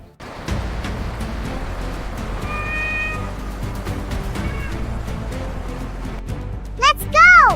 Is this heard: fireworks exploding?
no